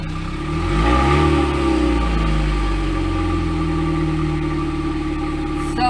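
A 1998 Pontiac Sunfire fitted with a new muffler starts up, revs briefly, then settles into a steady, even idle close by with a low, smooth exhaust drone and no talking.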